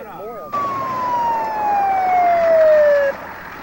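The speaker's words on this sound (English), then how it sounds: "10 minutes later, the ambulance arrived with paramedic Brad Malone and his partner" An ambulance siren sweeps in abruptly and holds a steady, slowly falling wail, loud and close, then cuts off near the end.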